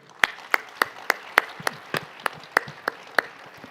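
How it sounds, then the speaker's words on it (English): Sparse, evenly spaced claps at a space exploration conference panel session in New Delhi, about a dozen sharp hand claps in a steady rhythm, close and moderately loud with no talk over them. "I would like to ask a round of applause, let's say, for the panel."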